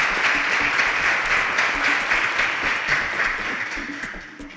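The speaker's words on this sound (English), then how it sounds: "A round of applause for Anita." Steady, dense audience applause for a quiz contestant who gave a smart answer, many hands clapping loudly and continuously before tapering slightly at the end.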